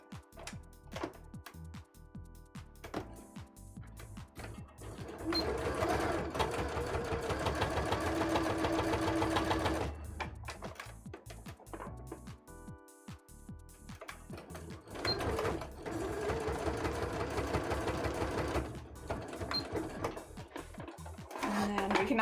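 An embroidery machine runs a long row of stitches in steady mechanical bursts, pausing between runs, with talk heard over the whirring at times.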